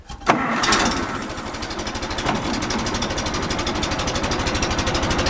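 An Allis-Chalmers tractor engine fitted with a Nelson muffler starts with a sharp burst, then runs at a steady, even chugging idle, loud and close, with no voices over it.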